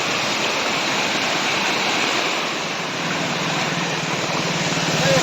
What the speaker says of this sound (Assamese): প্ৰত্যেকবাৰে কৰেইৰ তলৰ ৰাস্তাটো মানে এনেকুৱা ওপৰেৰে পানী যায়